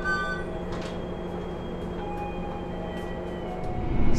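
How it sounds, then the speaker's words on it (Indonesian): The KA Malabar train pulls out of Banjar station with a steady low rolling rumble, faint high squeals and clanks over it, and the noise swells toward the end. "Sekarang ini perjalanan kereta api Malabar sudah diberangkatkan kembali dari stasiun Banjar"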